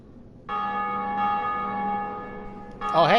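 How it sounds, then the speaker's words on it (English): A large bell tolls in Dark Souls Remastered, a sustained resonant ring with a long humming decay, followed by a brief wavering chime at the end. "Oh, hey, someone else rang the bell."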